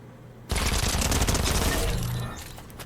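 Dual micro SMGs in Fortnite fire a rapid, dense burst of automatic gunfire that starts abruptly and runs for about two seconds before stopping.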